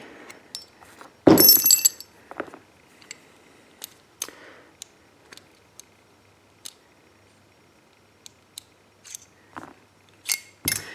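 AR-15 bolt carrier group taken apart by hand, scattered sharp metallic clicks and clinks with one louder rattling clatter early on, close and otherwise quiet, no talk.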